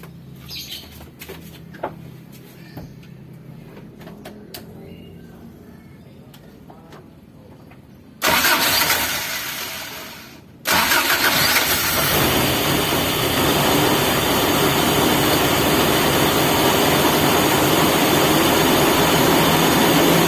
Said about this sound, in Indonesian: kita akan lihat bagaimana start engine dan auto choke itu bekerja